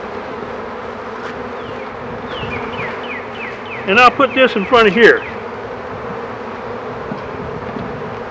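Honeybees hum steadily around an opened beehive during an inspection, with someone talking over them and a short cluster of sharp handling clicks and rustles in the middle.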